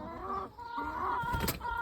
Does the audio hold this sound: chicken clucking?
yes